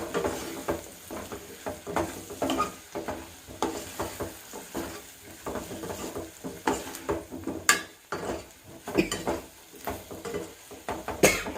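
Coriander powder, chili powder, turmeric and salt are stirred into frying vegetables for a vegetable biryani, with a spoon repeatedly scraping and clinking against the pan in an irregular rhythm over a soft sizzle.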